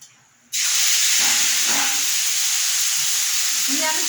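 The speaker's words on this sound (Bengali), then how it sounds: "তেলটা গরম হয়ে গেলে আমি চাউমিনগুলো তেলের মধ্যে দিয়ে দেব" Chowmein noodles hitting hot oil in a kadai set off a sudden, loud, steady hiss and sizzle that holds constant, with a few faint clinks of stirring underneath.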